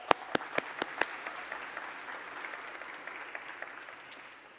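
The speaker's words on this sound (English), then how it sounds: "Let's give them another round of applause," Crowd applause at an outdoor walk rally in Los Angeles, a few sharp nearby claps up front giving way to a steady wash of clapping that trails off.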